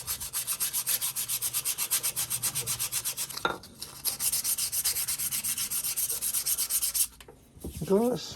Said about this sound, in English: And just start sanding away at it.